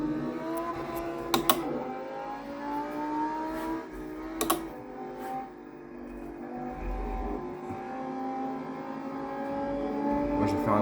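A racing video game car's engine drones and shifts pitch while played with a DIY force feedback pedal, with sharp clacks from the pedal and controls and a dip as the car brakes hard; someone talks over it.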